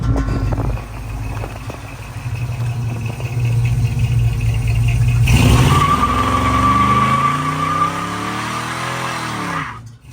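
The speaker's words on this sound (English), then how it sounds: "we can do a burnout" A 1957 Chevy's engine revs hard as tires squeal in a long, rising burnout screech, loud and close, before the noise cuts off abruptly.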